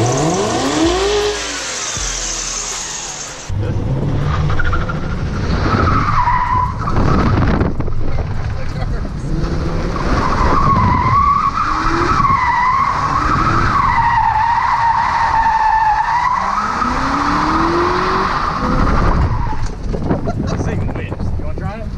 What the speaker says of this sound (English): I'd say it's about time to go do some donuts.